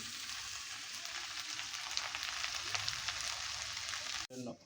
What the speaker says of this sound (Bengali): গ্যাসে এই যে তরুলে আলু ভাজছে